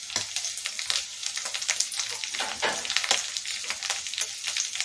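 Chillies crackling and sizzling in a hot pan for a quick noodle snack, with a dense, close, busy spatter that rises and falls throughout. No voices.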